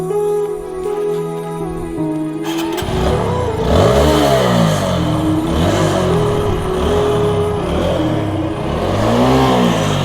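A TVS Apache motorcycle with a modified, opened-up silencer revs loudly and close by, its engine note rising and falling in repeated sweeps after a steady idle, with a rough, throaty exhaust tone throughout.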